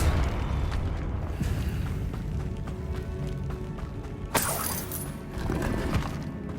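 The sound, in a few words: Confringo blasting spell in Hogwarts Legacy video game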